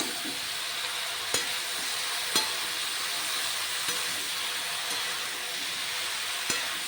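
Bottle gourd and dried lentil dumplings stir-fry in a pan with a steady, close sizzle, broken by a few isolated sharp clicks of a spoon against the pan, with no talking.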